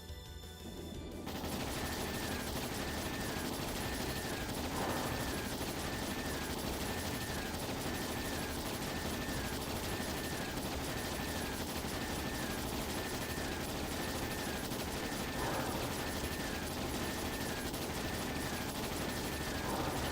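Rapid, continuous volley of ship cannon fire in a Trails video game naval battle, dense overlapping booms and crackle sustained at high level for the whole stretch, with no voices.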